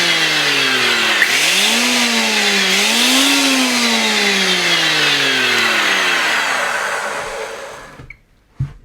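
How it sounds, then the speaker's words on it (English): A benchtop cast iron surface planer jointer's motor runs loudly with a harsh, high whine that dips and rises in pitch as it loads and recovers, then winds down and cuts off near the end, followed by a brief click. "This is a really loud machine, so it would be nice to change the motor to a brushless type"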